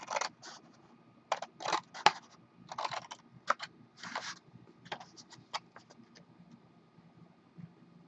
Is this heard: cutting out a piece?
yes